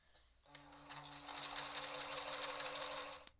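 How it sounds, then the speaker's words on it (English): An electric sewing machine stitches cord onto mosquito screen fabric in one short burst, running quickly and steadily at close range for about three seconds before stopping with a small clunk. "I'm going to sew a quick line where the two cords meet to keep them in place."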